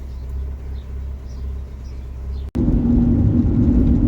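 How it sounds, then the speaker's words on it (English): A Fiat 500 engine with a misfire idles with a low, uneven throbbing rumble, then after a sharp break the sound jumps to a louder, fuller engine drone close by. "The car's misfiring, which is not great"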